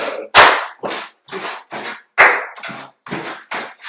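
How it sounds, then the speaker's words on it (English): Hands clap on counted beats for a solo jazz rhythm exercise: eight crisp, evenly spaced claps, close and fairly loud, with brief silences between them and no talking. "Oftentimes you're already clapping during these."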